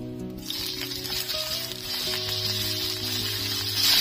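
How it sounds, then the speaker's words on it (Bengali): Cut eggplant pieces frying in hot mustard oil in a pan for a Bengali betho saag dish, a steady close sizzle and crackle with a faint tonal hum underneath, no talk. "দিয়ে দিচ্ছি সরষের তেল, দিয়ে দিচ্ছি কেটে রাখা বেগুন"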